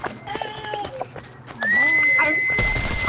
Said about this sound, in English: That whistle was Negan.